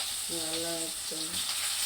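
Ginger dropped into hot oil in a pan sizzles with a soft crackling hiss, steady and close, with two brief tonal blips over it.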